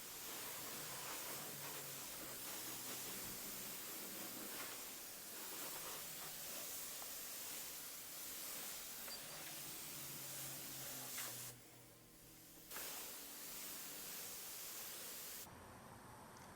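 A steady hiss of water spray rinses soap off a car during a hand wash, broad and continuous for most of the stretch, with a brief pause near the end before the spray resumes.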